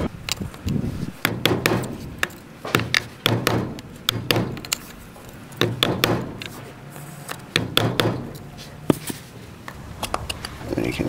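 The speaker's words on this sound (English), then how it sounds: "you just get a flat punch, cold chisel, and you go work your way around the outside" Steel flat punch or cold chisel hammered around the outer edge of a trailer wheel bearing race, giving sharp metallic strikes in irregular bursts, close and fairly loud, with spoken narration heard between the blows.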